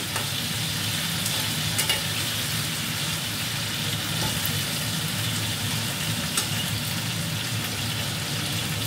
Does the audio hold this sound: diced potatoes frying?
yes